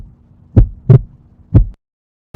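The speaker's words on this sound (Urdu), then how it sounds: "میرا دل زور زور سے دھڑکنے لگا۔" Heartbeat sound effect in a horror story, three deep thumping beats in an uneven pounding rhythm, loud and close, followed by a pause and the start of another beat.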